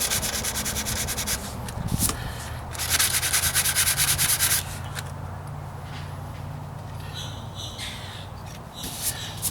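Hand sanding of Bondo body filler on the driver's side wheel arch of a 1998 Ford Ranger, using 150, 220 and 500 grit paper, gives repeated close, raspy scrubbing strokes in bursts, with pauses between passes.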